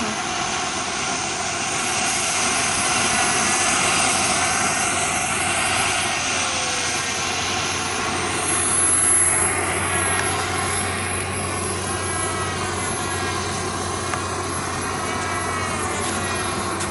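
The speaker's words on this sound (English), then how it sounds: "it's gonna get noisy with the turbine" E-flite A-10 RC jet with a turbine engine coming in to land, a loud continuous whining roar that swells and shifts in pitch as it passes, with no talk over it.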